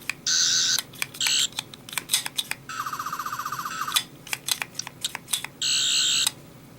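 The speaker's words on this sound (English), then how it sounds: "These are the original noises of the 11th and 12th Dr. Sonic screwdriver" Sonic screwdriver toys of the 11th and 12th Doctor from Doctor Who give steady electronic whirring buzzes and a rapid warbling trill, broken up by sharp button clicks, close and fairly loud with no talking.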